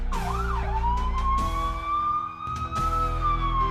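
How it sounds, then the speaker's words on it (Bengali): A loud siren wails steadily with a rising and falling tone, close and continuous over a low rumbling background. "বাইরে থেকে সাইরেনের তীব্র আওয়াজ"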